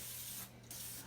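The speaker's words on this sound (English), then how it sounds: "I'm just going to give this a nice good spray so that the potatoes don't stick" Short hiss of cooking spray from an aerosol can onto a sheet pan of chicken and baby potatoes, two quick bursts split by a brief pause, close and fairly quiet.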